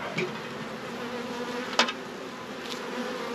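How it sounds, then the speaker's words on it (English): A dense, steady buzz of many honeybees swarming close by at an opened home hive, continuous throughout with a couple of brief clicks. "That is a lot of bees"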